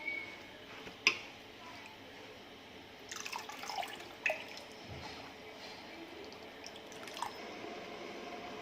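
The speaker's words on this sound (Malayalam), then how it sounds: "ഇതിലേക്ക് ആവശ്യത്തിന് വെള്ളം ഒഴിച്ചു കൊടുക്കാം" Water is poured into a pot while preparing homemade nannari sarbath, heard as faint, intermittent splashes and drips with a few sharp clinks against the pot over a quiet kitchen background.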